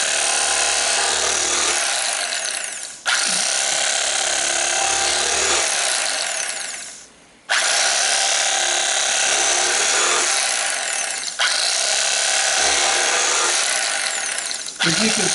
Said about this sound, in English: I'm going to take and cut our pork loin into approximately 1/4 inch